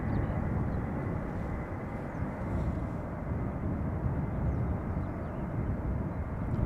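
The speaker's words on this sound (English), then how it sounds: "It's the PHAOC A330-200." KLM Airbus A330-200, registration PH-AOC and about 18 years old, taking off at Schiphol Airport on its flight to St. Maarten, giving a loud, steady broadband engine roar that holds at full strength throughout, with no other sound over it.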